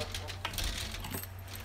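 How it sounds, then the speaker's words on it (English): Car keys jangle and clink as they are picked up from a nearby spot, a short metallic rattle with a few sharp jingles over a low steady hum. "I'm just going to reach in and get my keys"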